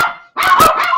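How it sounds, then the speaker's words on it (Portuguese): A dog barks indoors, running around the house: a short yelp, a brief gap, then a close, loud burst of repeated barks. "Está correndo aqui a casa toda, de um lado para o outro, latindo."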